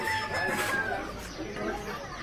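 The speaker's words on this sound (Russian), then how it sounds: "Смотрите, какие курицы здесь большие." Chickens in an Amman poultry market, large birds clucking and crowing faintly amid a murky background din, with a brief drawn-out crow-like call near the start.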